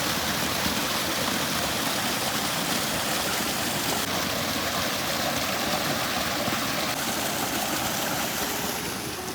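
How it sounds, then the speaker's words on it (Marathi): Monsoon rainwater rushes along a village road in a continuous, loud, even wash of flowing water with no pauses and no voices. "असं रस्त्याने पाणी वाहतं"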